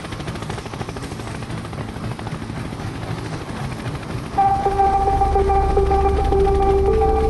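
Automated drone hovering during power line maintenance inspection, a steady whirring rotor drone that grows louder midway, with a sustained motor whine joining for the last few seconds.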